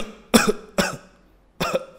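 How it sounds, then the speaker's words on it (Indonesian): Three deliberate coughs from a singer doing a vocal warm-up exercise, short and forceful bursts with gaps between them, close and clear with no talk over them. "sekarang coba seperti orang batuk."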